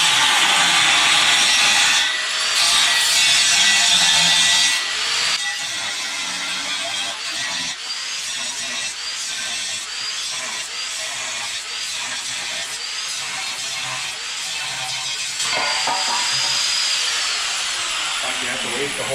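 Cutting wheel grinding metal during exhaust fabrication on a turbo 6.0 LS Mustang, a loud harsh continuous whine and rasp that eases mid-clip and swells again near the end, with voices talking over it.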